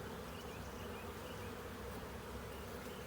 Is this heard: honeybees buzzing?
yes